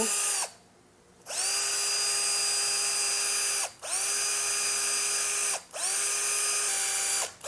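A Tekiro CD-HD2047 12V cordless hammer drill whirs steadily at a high pitch on speed 1, stopping and restarting in three spinning bursts with short pauses between them.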